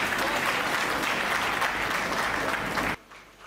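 An audience at a Hindi comedy poetry show bursts into loud, dense applause lasting about three seconds, then it drops off sharply.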